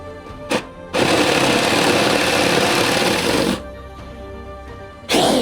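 A power drill boring with a Forstner bit during a van build, a short blip, then a loud steady whirring run of about two and a half seconds that drops away, followed by the start of another run.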